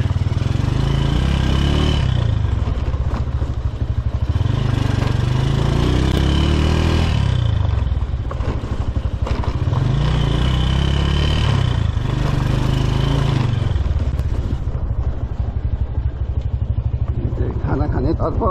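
A vintage motorcycle's engine runs steadily close by, with a deep, throbbing low rumble that swells and eases in repeated surges, as if revved, amid outdoor noise.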